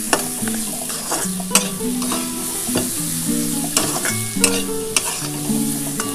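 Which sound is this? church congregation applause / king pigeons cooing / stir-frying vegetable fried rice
stir-frying vegetable fried rice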